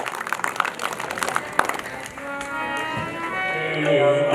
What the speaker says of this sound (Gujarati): તાળીઓના ગડગડાટથી વધાવી દે